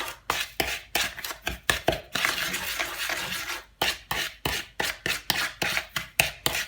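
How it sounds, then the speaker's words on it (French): Three sugars are stirred together in a bowl for homemade palmiers, a steady rhythmic scraping and rubbing of a utensil through the grains, with a brief smoother pause midway before the strokes resume. "On mélange bien les 3 sucres."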